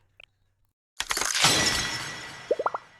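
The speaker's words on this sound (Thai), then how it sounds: "เสียงกระจกแล้ว" Glass shatters in the video game Blue Archive with a sudden loud crash and long tinkling decay, followed by a few quick sharp chirps near the end.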